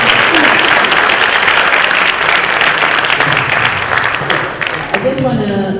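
Audience applause fills a hall after a presentation at an ASEAN dialogue event, loud and steady throughout before thinning slightly near the end.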